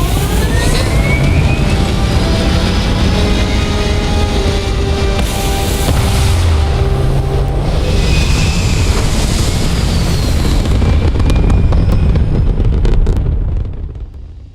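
Spaceship engines firing for a landing in the video game Starfield, a loud, sustained roaring rush with shifting whooshes and a low rumble that holds steady and then fades out at the end.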